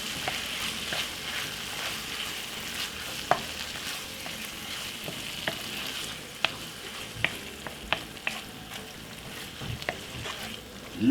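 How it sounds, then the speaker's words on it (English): Jerk beef mince with tomato sauce sizzles and fries in a pan during Jamaican cooking, with a steady hiss. Scattered sharp clicks and scrapes come from the spoon as it stirs. "Give it a nice little stir."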